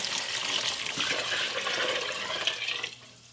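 Water pours and splashes steadily into a soup pot for a few seconds, then trails off abruptly near the end.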